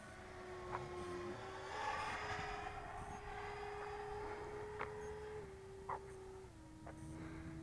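A Freewing F22 RC jet with a 12-blade ducted fan on a Turnigy SK3 1500kv motor and 8S battery flies overhead, its steady high whine holding pitch and stepping slightly, with faint clicks over the continuous drone.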